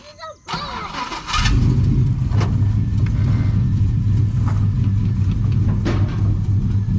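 A car engine turns over and settles into a loud, steady rumble as the car is driven up onto Race Ramps. The motor stays close and continuous throughout.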